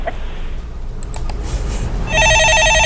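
A telephone ringback tone sounds while a call is being placed during a phone-in stock market programme, a loud repeating electronic ring starting partway in after quieter studio background.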